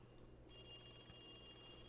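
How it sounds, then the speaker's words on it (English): A telephone rings with a steady, high electronic trill that starts abruptly and continues unbroken over a low room hum. "The phone continued to ring."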